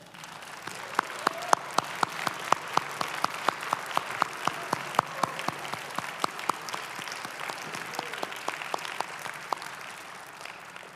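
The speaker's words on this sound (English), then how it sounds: "I'm going to ask you to stand so that we might applaud you." Graduation-day audience, standing in a large hall, applauds the graduates at a commencement ceremony; a steady roar of many hands is punctuated by a run of crisp, evenly spaced loud claps close by, lasting throughout without speech.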